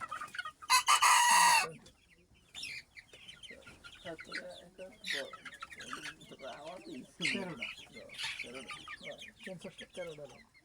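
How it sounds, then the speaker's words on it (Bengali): Two-month-old broiler chickens, about fifty of them in a farm shed in winter, cluck and squawk close by, with a loud burst of agitated calling early on and a voice talking intermittently over the steady flock chatter. "50টা ফার্মি মুরগি আছে এখানে।"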